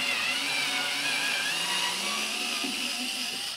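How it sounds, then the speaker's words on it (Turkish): A Ferm cordless screwdriver backing a screw out of solid wood, its small motor giving a steady close whine that holds level for several seconds with no voices. "Evet, şimdi daha önce birleştirdiğim vidalardan birini çıkartacağım."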